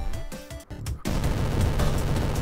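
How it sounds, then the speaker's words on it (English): A gun fires continuously with the button held down in Gunslugs 2, chiptune-style shots at first, then a loud, unbroken rattle of rapid fire filling the rest of the moment. "I can hold the gun button down to shoot."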